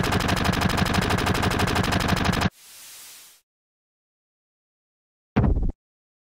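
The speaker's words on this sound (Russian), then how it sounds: "Барретт его игнорирует и начинает стрелять" Barret's gun-arm in Final Fantasy VII fires a loud, rapid automatic burst for a few seconds, followed by a fading hiss, silence, then one more short burst.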